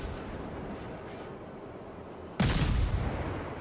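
Ship guns fire a broadside in World of Warships from the destroyer Mutsuki, with one sudden heavy boom after a low rumbling lull, then a long rolling decay.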